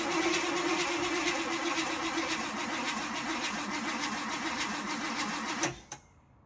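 A car's starter cranks rhythmically for several seconds without the engine catching, then cuts off abruptly. A brief knock follows in the quiet.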